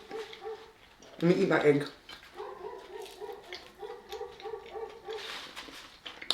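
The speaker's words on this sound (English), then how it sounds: "listen to Corey just barking like a fool" Corey the dog gives a short burst of loud, close barking, with yips and whimpers scattered through, while a person talks at a meal with eating sounds.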